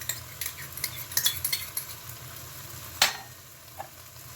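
A spoon stirs venison stew after saffron, paprika, pimenta moída and wine are added, with soft intermittent scraping and light clinks against the pot, a single sharper knock near the end, and a faint sizzle beneath.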